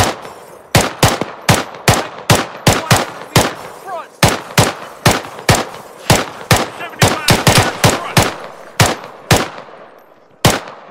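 Machine gun fire in Arma 3, a military shooter, in a hostage rescue battle: loud, close, rapid bursts of sharp shots in a steady, slightly uneven rhythm, with no voices over them.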